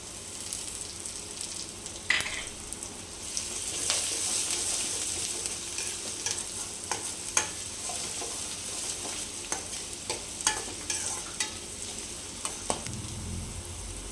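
Green chillies and curry leaves crackle in a pan beside chana dal and chukka kura, a constant close sizzle with scattered pops and occasional stirring scrapes throughout.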